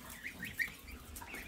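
Geese in a farmyard give a single short, faint honk or cluck partway through, set against quiet, steady outdoor background noise.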